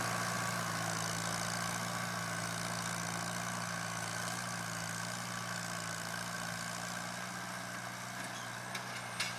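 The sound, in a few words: small farm tractor engine idling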